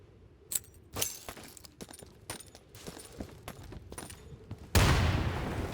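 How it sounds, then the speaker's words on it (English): Grenade blast in the video game Insurgency: scattered rattling gunfire and clinking sounds build for several seconds, then a sudden loud, broad explosion roars and lingers to the end. "Roll a grenade under that wooden fence. Try to get it down that hole and don't blow us up."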